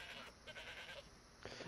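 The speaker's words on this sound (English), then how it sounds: "chasing what appears to be a goat." A goat bleats in the video game DayZ, quiet wavering calls in two bursts a moment apart, faint and alone over low game background.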